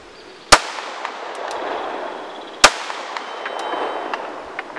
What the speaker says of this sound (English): Glock 19, Gen 4, 100 yards on a steel plate.